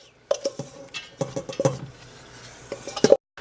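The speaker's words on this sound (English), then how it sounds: "we're going to throw our sliced onions in there now as well. We want to get those nice and browned." Sliced onions go into a hot pan for browning, heard as irregular stirring clatter and utensil knocks against the pan over a faint sizzle, alone and close.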